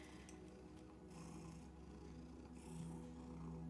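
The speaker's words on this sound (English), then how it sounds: "You guys can hear him purring." A cat purring very close and soft, a steady low rhythmic rumble with gentle in-and-out breathing cycles, quiet and continuous with no talking.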